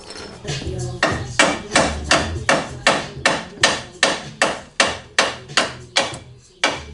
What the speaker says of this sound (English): Let's try the hammer on this side